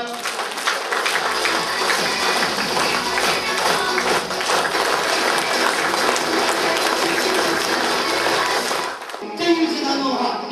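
A large audience at an evening business seminar claps in a dense, sustained burst of applause for about nine seconds before it tapers off abruptly.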